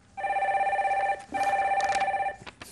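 A telephone rings for an incoming call on a live phone-in broadcast, giving two steady electronic rings close and clear, with a short gap between them and no voices over it.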